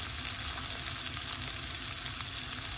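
Onion frying in oil for potato bhaji, a steady dense sizzle and crackle throughout, close and even in loudness with no talking.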